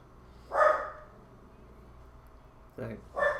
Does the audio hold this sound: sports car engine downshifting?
no